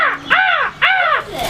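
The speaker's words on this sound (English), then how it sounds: "the crow will say its name because kids come up and read American Crow" An American crow caws twice, close and loud, two harsh rasping calls with a brief gap between them and a third starting at the end, outdoors at a nature center.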